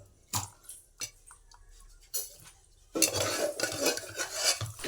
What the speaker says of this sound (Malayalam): നമ്മളിനി ഇത് ഊറ്റി നല്ലൊരു പാത്രത്തിലേക്ക് മാറ്റുകയാണ്